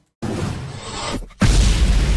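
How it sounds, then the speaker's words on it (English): Explosion sound effect from the Napalm Records logo intro: a sudden loud whooshing burst, a brief drop, then a heavier booming blast that rumbles on, loud and close. "the logo is about to swirl in, do the shoo, and then the explosion that always scares the bejesus out of me"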